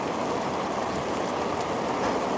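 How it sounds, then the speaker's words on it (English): Rain falling outdoors near an awning during a street protest, a steady, even broadband hiss that stays loud and unbroken throughout, with no voices. "It's raining."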